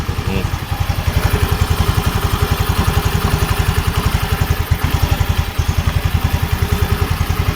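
Yamaha Mio M3 scooter fitted with a Veloscope exhaust idles close by, a steady loud pulsing putter with a slight hiss on top, running alone throughout.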